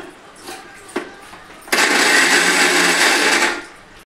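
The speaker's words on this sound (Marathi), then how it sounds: "आता ह्याला थोडंसं जाडसर मिक्सरमधून काढून घेते" Faint kitchen sounds and a couple of soft knocks give way to a mixer grinder roaring into a loud, steady whirr as it coarsely grinds masala for bottle gourd kofta. It runs about two seconds and then winds down.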